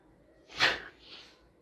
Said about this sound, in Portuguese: Deixa eu espirrar aqui.